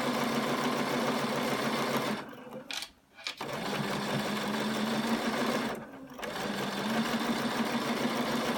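A Bernina 770 sewing machine stitches at a steady, fast whir with no needles fitted, briefly pausing twice before resuming its even hum.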